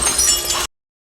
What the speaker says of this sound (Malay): Kemarahannya membuat lampu hingga kaca menjadi pecah.